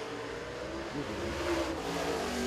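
Race car engine on a qualifying lap at Tazewell Speedway, a short-track event, droning steadily at a distance and swelling slightly louder as the car comes down the track.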